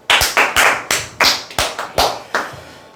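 A small group claps on cue during a Korean sales-coaching talk for call-center telemarketers, about nine sharp, evenly spaced bursts of hand claps, loud and close, with no talking.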